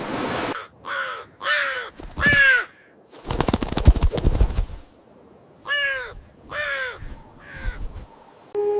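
Crows give a series of loud, close caws in clusters of two or three, with a burst of broadband noise in the middle and no talking.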